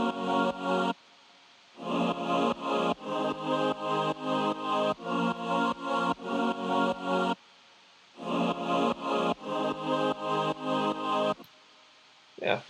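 A sampled choir patch sings an A vowel in sustained chords boosted up an octave, playing in rhythmic pumping bursts that swell and duck, with brief gaps of silence between phrases.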